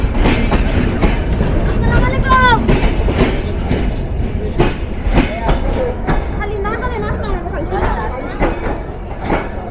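A Bangladesh Railway 6634 locomotive, a Progress Rail EMD of the 66 series, rolls into a station with a loud rumble and rhythmic wheel clatter, and high squeals from the wheels rise over it while people talk nearby.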